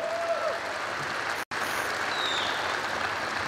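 Steady applause from a crowd at a state police anniversary celebration fills the hall without pause, broken only by one split-second dropout.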